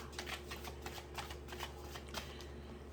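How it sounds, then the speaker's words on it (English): Tarot cards are shuffled by hand in quick repeated riffles, close and crisp, running without a break over a low steady background hum. "I do like to give them a good shuffle in between"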